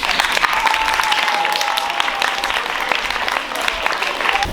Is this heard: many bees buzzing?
no